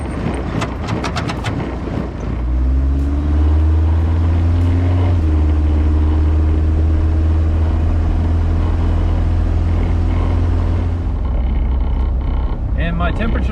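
Diesel truck driving with newly installed digital gauges, a steady low engine drone and road rumble filling the cabin loud and close after a brief startup, with no one speaking.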